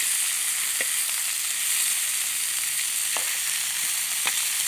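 Pork sizzles steadily in a hot wok with hot oil, a constant bright crackle with occasional louder pops, close and continuous.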